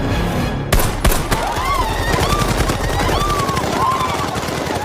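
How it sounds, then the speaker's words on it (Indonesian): Film gunfire on a remote island full of criminals: sharp loud shots and bursts of rapid fire crack out over a busy action soundtrack with screeching, whistling tones. "tembakan itu pun terdengar dengan jelas oleh Gaspar"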